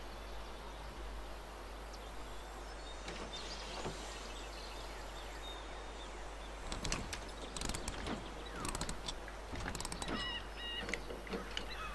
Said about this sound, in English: How can I tighten it? Maybe I can use the wrench.